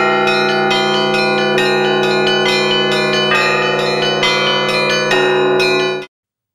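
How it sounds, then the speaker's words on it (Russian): A large church bell in Crimea, at ancient Chersonesus, tolls at noon, its loud, rich ringing layered with overtones and struck several times in steady succession, sustaining throughout before cutting off abruptly. "Один из самых больших колоколов России прозвучал в Крыму."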